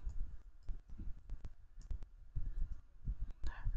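Soft, irregular clicks of typing on a computer keyboard, quiet and close, coming in quick scattered clusters with brief pauses.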